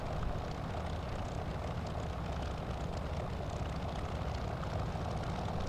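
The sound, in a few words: Curtiss P-40F Warhawk aircraft engine in flight simulator game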